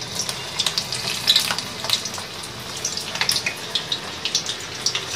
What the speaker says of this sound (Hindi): अब हम उसको फ्राई करेंगे